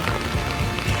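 Rain patters steadily on a surface outdoors during a walk, a dense, even wash of drops with no clear breaks.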